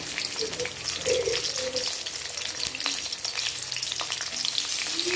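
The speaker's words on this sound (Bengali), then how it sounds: "গরম মশলা দিয়ে দিলাম পেঁয়াজ দিয়ে দেবো একসঙ্গে সব লাল হয়ে যাবে" Onions frying together with meat and garam masala in a pan for a cabbage-and-meat curry, a steady close crackling sizzle with occasional stirring scrapes throughout.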